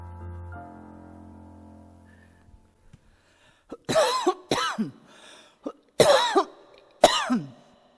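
A few harsh, close coughs burst out in quick succession after a quiet lull, following a fading musical tone at the start.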